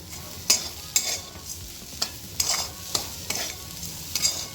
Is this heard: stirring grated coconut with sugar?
yes